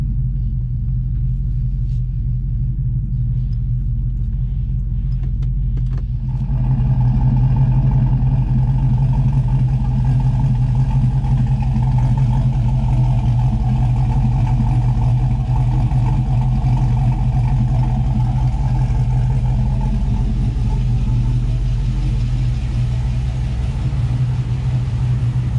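The supercharged LSA engine in a Chevrolet Tahoe idles with a deep, steady rumble that swells slightly louder after a few seconds, then holds an even throb close by.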